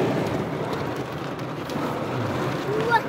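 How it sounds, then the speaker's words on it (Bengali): Heavy rain pours in Sydney, Cape Breton, Nova Scotia, a dense steady roar of falling water with faint traffic-like rumble underneath and no clear talk. "দেখেন, কত জোরে বৃষ্টি হচ্ছে।"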